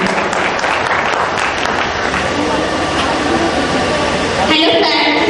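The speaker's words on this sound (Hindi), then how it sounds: "सुप्रिया सिन्हा जी, जोरदार तालियों से उनका स्वागत करें" Loud applause fills a hall as an audience welcomes a speaker onto the stage, a dense steady wash of clapping that continues without a break before easing slightly near the end.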